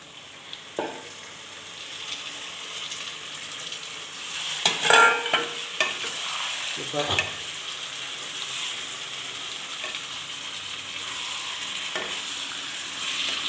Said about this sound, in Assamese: এতিয়া তেলটো গাইছ লাহে লাহে ওপৰত উঠি আহিছে, কিবা বিডিঙিটি উঠিছে তেলখিনি, সেইটো কাৰণে এতিয়া মই মাংসখিনি ঢালি দিওঁ